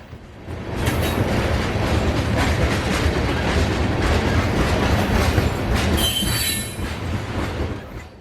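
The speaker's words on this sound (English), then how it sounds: "the second locomotive in this consist was one of Norfolk Southern's new SD70 IACs, number 1232" A Norfolk Southern freight train with an SD70 IAC locomotive in the consist rolls past close by, a steady loud rumble of wheels with clickety-clack and a brief high wheel squeal near the end, with no voices.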